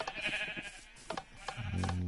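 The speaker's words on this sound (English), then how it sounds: "So like my automated sheep farm," Several sheep bleat in a Minecraft automated sheep farm, overlapping nasal cries from close by in quick succession, with a longer, louder bleat at the end.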